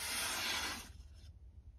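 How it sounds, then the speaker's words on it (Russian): An IZULA VG10 steel knife slicing through paper, one short soft swishing rasp that fades quickly into quiet, close and faint. "Такое ощущение, что я не бумагу режу, а масло."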